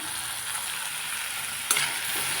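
Onion, tomato and coriander fry in a pan for a Khandeshi-style pea and potato bhaji, giving a steady, bright sizzle throughout, broken by one brief clatter of stirring, with no talking.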